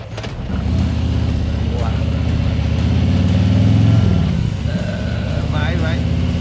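Motorcycle engine revving steadily as the bike rides through a stream crossing on an eroded dirt road in the Serra do Cambota, loud and continuous, with a brief dip and a voice speaking near the end.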